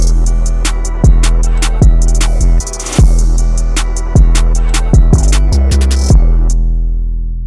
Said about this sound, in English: This is the kick sample.